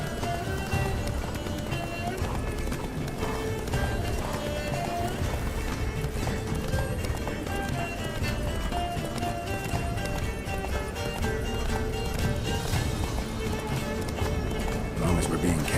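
Roach, the horse in The Witcher 3: Wild Hunt, gallops at speed, its rapid hoofbeats drumming under a dense wash of game music and ambience, with voices speaking over the run.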